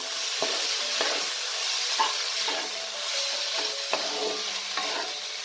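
Stirring spices, cumin powder, turmeric and salt, in a sizzling pan of oil while cooking dalia khichuri, with a steady frying hiss and periodic clicks of the spoon scraping against the pan.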